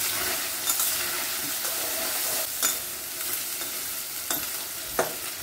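Dried loitta fish sizzles steadily in hot oil in a pan, with a few sharp stirring scrapes breaking through the continuous frying hiss; no one speaks.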